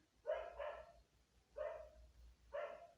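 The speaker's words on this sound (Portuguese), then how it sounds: "Cachorro." A dog gives three separate barks, the first a quick double, spaced about a second apart, moderately near against a quiet background.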